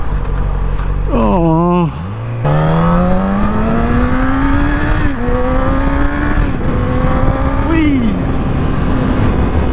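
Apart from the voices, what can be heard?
car driving past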